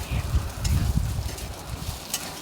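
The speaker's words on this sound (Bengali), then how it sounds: "আমি এবার এটাকে একটু নাড়াচাড়া করে নেব আর একটু কষিয়ে নেবো" Pointed gourd being stirred and fried for a moong dal dish, a soft sizzle with scraping stirs in the pan, fairly close and steady.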